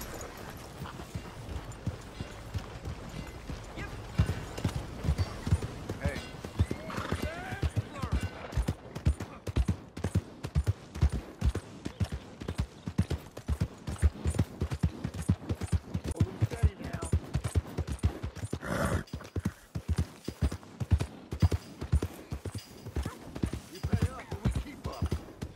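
Galloping horse hooves in the Western video game Red Dead Redemption II, a steady rhythmic clip-clop pounding through the whole stretch, mixed with gunfire bursts and a rider's voice urging the horse on.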